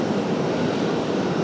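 An aircraft on the runway at RDU airport produces a loud, close, unbroken engine roar, dense and steady for the whole short stretch.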